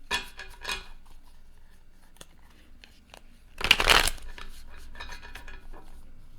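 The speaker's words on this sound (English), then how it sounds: "you shuffle." A deck of tarot cards is riffled and shuffled by hand in short, crisp bursts, with one louder flurry midway through, close and otherwise quiet.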